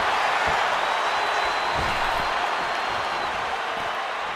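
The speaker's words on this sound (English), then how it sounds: "this exchange is whipping this capacity crowd into a frenzy" Arena crowd in the WWE 2K26 wrestling video game, a steady dense roar of cheering and noise filling the whole stretch, with no clear voices on top.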